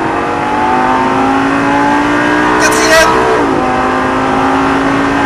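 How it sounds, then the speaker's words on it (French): Lamborghini Gallardo LP 560 accelerating at full throttle, with a loud, close engine roar climbing steadily in pitch and a brief shift partway through, heard under a man's French speech. "on le maintient tant qu'on a besoin de diriger la voiture jusqu'ici et gaz à fond. Pied au plancher."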